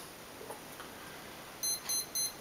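Electronic speed controller on an MJX F645 helicopter beeping during programming: three short, evenly spaced high tones sound alone over a quiet hiss near the end.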